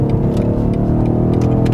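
BMW XM plug-in hybrid with its large M engine and electric motor, cruising at low RPM around 3,000, giving a steady, smooth droning hum with a layered harmonic growl and faint road whir inside the cabin.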